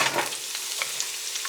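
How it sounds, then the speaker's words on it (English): Steady crackling sizzle of food frying in hot oil, close and continuous, with a few louder pops and a clatter at the start. "and that nice sizzle."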